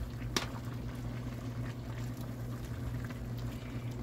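Southern yellow squash and onions cooking in a pan, a steady low simmering and bubbling sizzle with a brief louder clink near the start, continuous and close with no talking.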